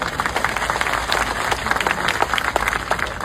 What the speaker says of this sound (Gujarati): આપણે બધે તાળીઓ પાડીને એમને જન્મદિવસની શુભેચ્છાઓ પાઠવી.